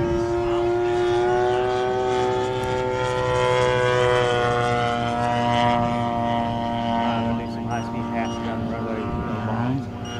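A giant-scale RC Corsair model airplane makes high-speed passes down a runway, its engine holding a loud, steady buzzing drone that shifts slightly in pitch as it passes close by.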